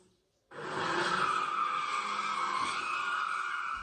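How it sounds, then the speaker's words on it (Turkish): A car drifts in the middle of a street in Esenyurt, Istanbul, its tires skidding and squealing loudly and continuously, with engine noise underneath, following a brief quiet start. "Caddenin ortasında dakikalarca drift yaptı."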